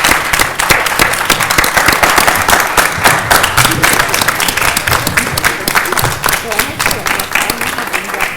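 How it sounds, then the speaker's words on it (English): A forum audience gives a panel a loud, dense round of applause, steady and continuous from start to finish, with some voices mixed faintly into the crowd noise. "please join me in giving a round of applause for our outstanding panel today"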